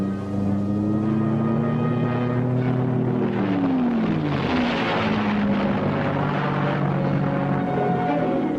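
A fixed-wing propeller spotter plane drones steadily nearby, its engine tone wavering and dipping as it passes, with a continuous roar throughout.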